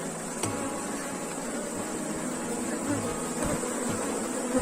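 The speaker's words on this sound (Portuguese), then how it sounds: "o enxame, ó, apesar de hoje estar com muita abelha" A swarm of honeybees at a hive buzzes steadily and densely up close, a continuous insect hum with no talk over it.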